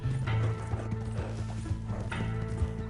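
Horse hooves clip-clop at a steady walking rhythm in the Red Dead Online video game, close and fairly loud over a busy background of game sounds, with no talk.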